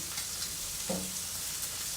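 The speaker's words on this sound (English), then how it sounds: "So I'm really wanting to get a good sear on it." A steak searing in a hot pan as part of a meal prep, a steady close hiss of sizzling fat with a brief soft clink partway through, no talking.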